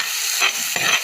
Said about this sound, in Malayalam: ഇവിടെ കുറച്ച് വേപ്പിലയും കൂടി ഇട്ട് കൊടുക്കാം കേട്ടോ.